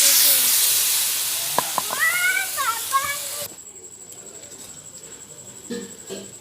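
Two and a half kilos of chicken hit hot, cooked-down spice masala in a pan with a loud sizzling hiss that fades over a few seconds. High voices chatter nearby before the room goes quiet.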